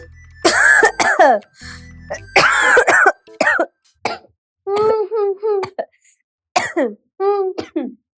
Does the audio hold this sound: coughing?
yes